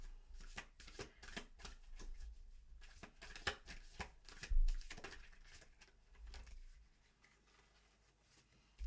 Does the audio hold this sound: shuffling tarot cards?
yes